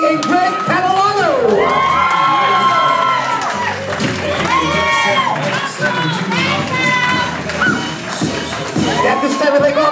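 Wedding guests at Quidnessett Country Club in North Kingstown, Rhode Island cheer, whoop and clap loudly for the bridal party's entrance, a dense, close crowd roar with excited voices throughout.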